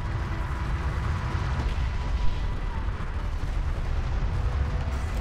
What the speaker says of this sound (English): Saturas is tangling with some railguns over here